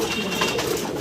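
Caged pigeons, grey barless birds, cooing in soft low repeated murmurs, close and continuous through a brief moment with no voices over them.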